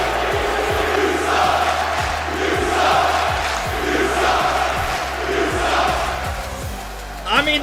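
Esports arena crowd at a Rocket League RLCS Major, a loud roaring mass of chanting and cheering voices heard through a broadcast stream, with sustained rhythmic yells swelling and falling.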